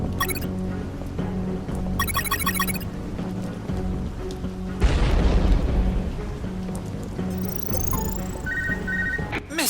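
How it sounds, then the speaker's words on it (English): In the video game UnMetal, a platform battered by missile explosions collapses with a deep rumbling crash midway, over a steady game soundtrack with rhythmic beeps and chimes. "The platform collapsed after the ballistic abuse from all the missiles."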